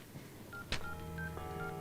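A telephone is dialed: a sharp click, then a short run of distinct keypad tones in quick succession, clear and close in a quiet room.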